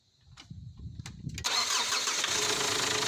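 A Ford Ranger engine cranks over a few times after faint clicks, then catches and settles into a steady loud idle.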